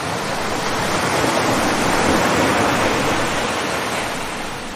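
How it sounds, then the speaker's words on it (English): Steady broadband wash of ocean waves heard as if aboard a ship, a continuous loud surf-like roar with no distinct breaks or other sounds. "If that sounds like waves, I must be on a ship."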